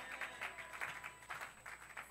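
A church congregation claps in quick uneven bursts, faint and distant, with no voices over the applause.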